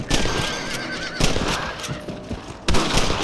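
Two sharp gunshots ring out in the Red Dead Redemption video game while rabbits are being hunted, spaced more than a second apart over a steady outdoor ambience with a horse whinnying and hooves clopping.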